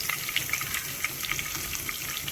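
Cumin seeds and three garlic cloves sizzle and crackle in hot oil in a heated pan, a steady close frying hiss with small popping bursts and no talk.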